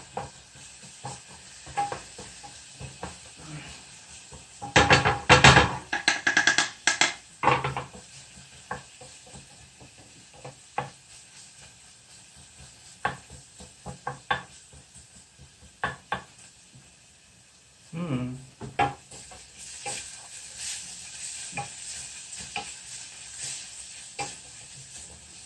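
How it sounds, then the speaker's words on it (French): Onions brown in a hot pan for a Golden Curry, with a steady soft sizzle broken by louder bursts of spoon-on-pan stirring and scraping. "Et vous allez donc laisser dorer les oignons."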